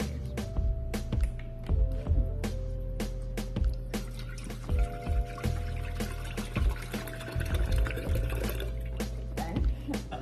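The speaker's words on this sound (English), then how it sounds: "Then we are going to pour our water in here." Water is poured into a container while making a homemade nettle hair and scalp tea, heard up close as a trickling, splashing stream with faint knocks of the vessel.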